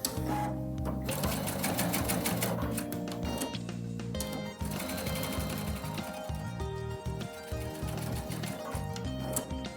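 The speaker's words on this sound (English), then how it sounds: "let's take this one to the machine and sew him down" A sewing machine stitches quilt pieces together with a quarter-inch seam, its needle running in a steady, fast mechanical rhythm close by for the whole stretch, with only brief pauses.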